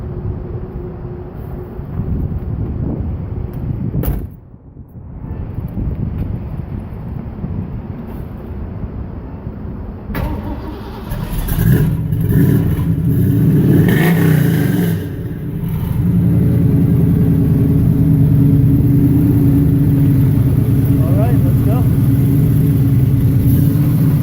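A loud old car engine fires up and settles into a rough, steady drone with buffeting wind noise, then the car pulls away and the engine keeps grinding on continuously.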